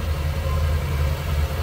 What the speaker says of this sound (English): exhaust note, nothing over the top, too crazy loud, anything like that